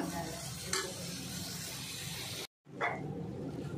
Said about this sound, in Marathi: आता कलेजी चांगली परतून झाली आहे माझी।